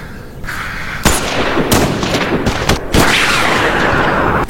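Gunshots in a film: several sharp, loud cracks a second or so apart over a noisy, hissing background, close and prominent.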